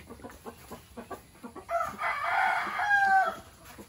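A Texas hen clucking close by in a farmyard, a series of short rhythmic clucks building into a louder drawn-out cackle that lasts nearly two seconds.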